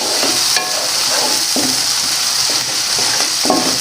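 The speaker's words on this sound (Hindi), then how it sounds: "अब इसको फ्राई करेंगे। इसको अच्छी तरह फ्राई कर लेना, जो लहसुन का कच्चापन ख़त्म होना चाहिए।" Ground green chillies and garlic paste fry in a hot pan, a close, steady sizzle broken by several scraping stirs of a spoon.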